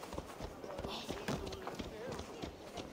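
Rapid horse hoofbeats in the video game Assassin's Creed Valhalla thud in a quick galloping rhythm, fairly faint, with a voice speaking over them.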